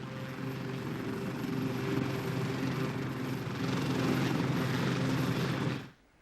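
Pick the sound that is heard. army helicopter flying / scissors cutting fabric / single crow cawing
army helicopter flying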